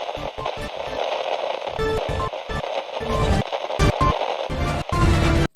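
A simulated radio signal built in Unity crackles with dense static, with erratic bursts, thumps and choppy dropouts throughout, loud and harsh.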